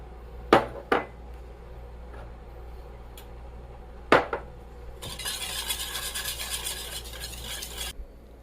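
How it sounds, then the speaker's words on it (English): Two eggs whisked in a bowl with granulated allulose sweetener and a pinch of salt: a few sharp clinks of utensil against the bowl, then about three seconds of steady, brisk whisking scraping close up, with no talking. "I'm going to scramble up 2 eggs along with 6 tablespoons of granulated sweetener"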